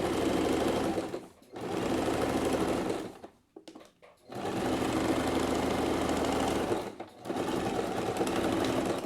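A sewing machine stitches a fabric bag, running in a loud, steady mechanical whir close to the microphone, pausing twice briefly with faint handling clicks before resuming, with no speech.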